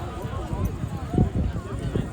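A horse gallops down the field at a tent pegging event in Bradford, its hoofbeats thudding in an uneven run beneath steady talk.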